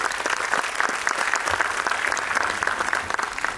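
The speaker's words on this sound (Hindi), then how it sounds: "मैं चाहूंगा गजेंद्र जी के लिए एक और बार प्लीज जोरदार तालियां हो जाए।" An audience at a dance show's opening ceremony gives Gajendra a sustained round of clapping, dense and even, with no pause for the whole stretch.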